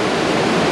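Bald River Falls in the Cherokee National Forest near Tellico Plains, Tennessee, gives a dense, steady roar of rushing water, loud and close, filling the moment without any voices.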